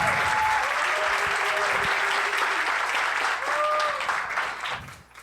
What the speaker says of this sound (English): So let's just give an applause to these 8 people.